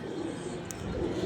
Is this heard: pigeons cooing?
yes